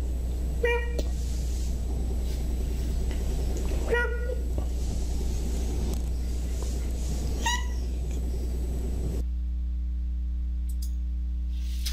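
Three short meows from a house cat, evenly spaced a few seconds apart, with a human voice imitating the meow between them, then a steady electronic hum at the end.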